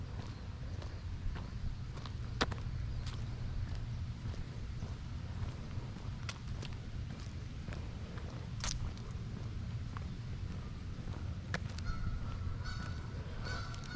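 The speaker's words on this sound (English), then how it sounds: "Oh, and you can hear the geese." Geese honk repeatedly at a distance at a campground on Lake Erie, Ohio, scattered calls over a low outdoor rumble with no talking.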